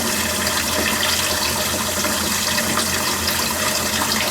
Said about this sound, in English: You hear water coming in.